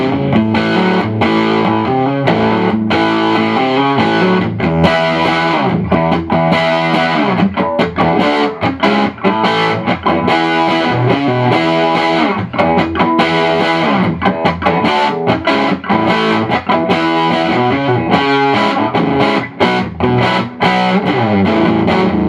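A 2014 R9 electric guitar plays through the bright channel of a 1958 Bassman tube amp with a bright, distorted tone, continuous chords and riffs, loud and close with no talking.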